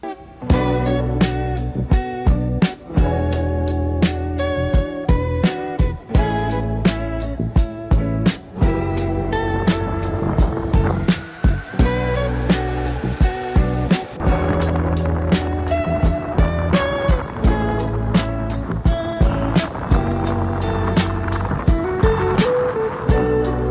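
An electric skateboard rolls over pavement on a test ride, a loud, rough continuous rumble with frequent sharp clacks and bumps from cracks and seams, heard up close throughout.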